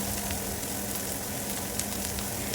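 Cumin, curry leaves and onion sizzle in a hot pan, a dense, steady crackling hiss heard close, with a few sharper pops and light stirring over a low background hum.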